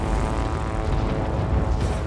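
A propeller plane engine drones steadily and loudly in World of Warplanes, a continuous close buzzing hum with no pauses and no talking.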